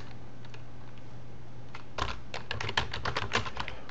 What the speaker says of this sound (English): Put your cursor into the text area, and let's type in Webvantix